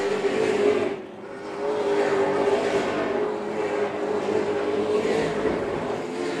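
Super late model race cars from the Easy-Kleen Super Late Model Series roar around the ReCar 150 track, a loud, continuous engine drone with rising and falling passes and a brief dip as cars sweep by.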